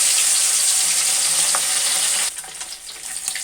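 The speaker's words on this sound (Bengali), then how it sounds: "তেল গরম হয়ে এসেছে, এখন আমি মাছগুলো ভেজে নিব" Large pieces of foli fish fry in hot oil, giving a dense, continuous hiss and crackle that eases slightly near the end.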